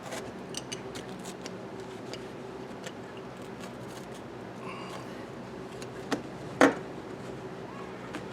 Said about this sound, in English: I think I could just cut like this.